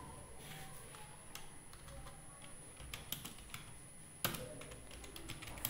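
Someone types a comment in an Excel spreadsheet on a computer keyboard, producing soft scattered key taps and one sharper click over a faint steady hum.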